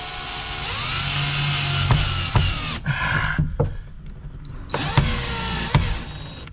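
A power screwdriver drives screws into the back of speakers in a 1957 oval-window Volkswagen Beetle in a hot rod garage, several whirring motor bursts with rising pitch and short pauses between, up close.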